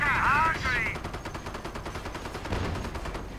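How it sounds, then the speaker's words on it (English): Gunfire in the video game Operation Panzerkrieg is aimed at a Hellcat tank, with a loud burst at the start followed by rapid repeated shots and battle noise. "Ruben, just shoot at it."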